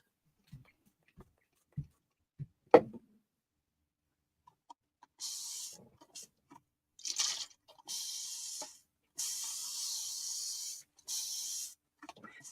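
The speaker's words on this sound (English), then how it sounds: "the spray is this is alcohol" Several short hissing spray bursts from a spray bottle of alcohol misted over a mixed media journal cover, each a few seconds long with brief gaps, preceded by faint tapping and handling noises.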